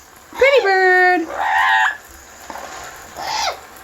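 A yellow-naped Amazon parrot gives a few close, strong calls, from a rising whistle to a drawn-out harmonic cry and a shorter squawk, with pauses between them.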